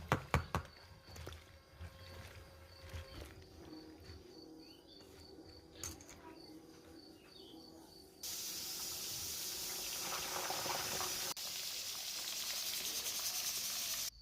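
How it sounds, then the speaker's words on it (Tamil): Brinjal (eggplant) frying in oil on a medium flame: quiet clatter at first, then a steady, soft hiss of sizzling oil that switches on partway through and holds to the end. "இது நல்ல ப்ரௌன் கலர் வர வரைக்கும் இந்த கத்திரிக்காவை ஃப்ரை பண்ணி எடுக்கணும்"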